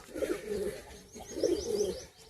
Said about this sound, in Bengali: দারুণ দারুণ পায়রা রেখেছে